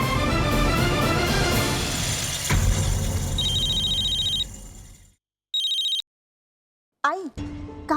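A phone ringtone chimes loudly in short bursts, breaking off and starting again, after a stretch of busy background noise.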